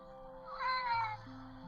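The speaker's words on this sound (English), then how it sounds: "The cat says yes." A cat gives one drawn-out meow, close and clear, over a faint steady hum and a low tone in the background.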